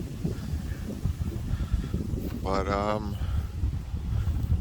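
Gusty wind lingering after Tropical Storm Elsa in Hernando County, Florida, making a steady low rumble and buffeting across the whole stretch, with a brief spoken word partway through.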